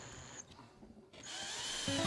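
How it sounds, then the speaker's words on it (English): A power drill driving screws into drywall while building an arched entryway, a close, brief whir that stops, then starts again and holds to the end, with no talking. "Then attach the drywall with several screws."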